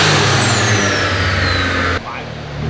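A tuned car on a dyno revs hard at high load, roaring loudly up close, then abruptly cuts out as it hits boost cut, and the engine drops to a lower rumble.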